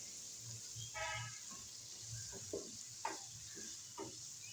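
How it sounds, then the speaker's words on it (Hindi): Soft sizzling of onions and tomatoes sautéing in a pan, with a few light stirring scrapes and clinks scattered through. "अब हम इसको सौते करेंगे"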